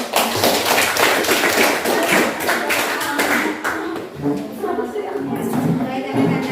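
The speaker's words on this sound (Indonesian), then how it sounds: "Tepuk tangan dulu untuk kelompok" A classroom of students at an Islamic junior secondary school applauds a student group, a dense run of hand claps over a few seconds that thins out near the end, with some voices mixed in.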